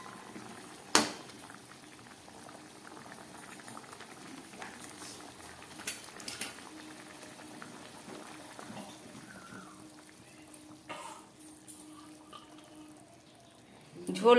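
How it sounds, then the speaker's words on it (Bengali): Curry gravy with hilsa fish head and taro stems bubbling in a pot, a soft steady simmer running throughout, with a few faint clinks of utensils and one sharp knock near the start. "ঝোলটা ফুটে উঠেছে"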